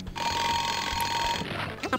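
An alarm in the Spy Fox: Some Assembly Required video game rings as a steady, loud electronic tone for over a second, then cuts off and gives way to brief, busier game sounds.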